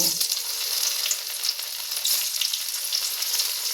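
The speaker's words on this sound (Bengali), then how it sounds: "আমি ফুলকপিটাকে ভালোভাবে তেলের সাথে লাল লাল করে ভেজে নেব" Cauliflower florets fry in hot oil in a kadai, a crisp, dense sizzle with crackling bursts and stirring scrapes, close and continuous after an initial splash as the pieces go in.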